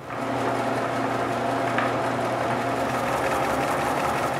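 A homemade wooden bandsaw spins up for its first run, giving a steady, close mechanical hum with a constant whirring drone that holds level throughout, with no talking.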